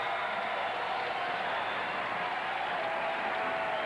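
A volleyball crowd roars during a timeout at Rec Hall, Penn State versus Michigan State, as a steady, distant wash of cheering and applause with no break.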